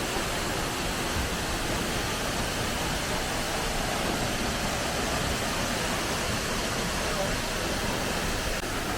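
Tad Fane waterfall on the Bolaven Plateau in Laos sends out a constant, even roar of falling water from a distance, a steady wash with no breaks.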